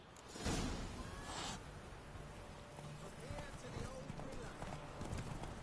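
Horse hooves clip-clop in a quick rhythm beneath voices talking over them, with a few sharper thuds early on, in the video game The Witcher 3: Wild Hunt.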